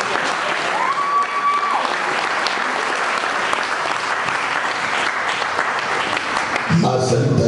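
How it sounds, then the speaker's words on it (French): A church congregation at a Sunday sermon bursts into sustained applause and cheering, acclaiming the name of Jesus Christ, a dense, steady roar of clapping and voices that fills the room before briefly tapering off. "Recevez mes salutations en acclamant le nom de Jésus-Christ."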